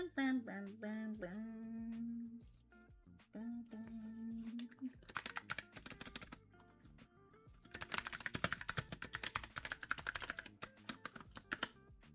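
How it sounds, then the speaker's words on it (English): Someone types on a computer keyboard, with bursts of quick, close clicking that grow denser and louder after a person speaks briefly at the start. "I need to get my old keyboard back. I keep hitting the Windows button by mistake."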